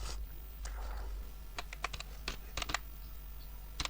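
Someone types on a computer keyboard while entering a database query, with an irregular burst of sharp close keystrokes over a low steady hum.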